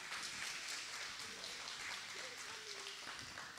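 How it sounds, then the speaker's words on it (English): An audience at a 2024 training seminar applauds after a talk, a steady faint wash of many hands clapping heard from a distance, continuous and even throughout with a voice faintly underneath. "Give a larger round of applause for Dr."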